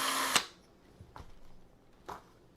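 A power drill bores holes in a metal heatsink for a computer mod, a brief loud whine that cuts off abruptly, followed by a few faint clicks and handling taps.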